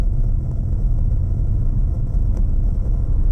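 A Renault Arkana E-Tech Hybrid 145 HP drives at 70 to 80 km/h on small, rough roads, a steady low-pitched cabin rumble of road and tyre noise with faint bumps.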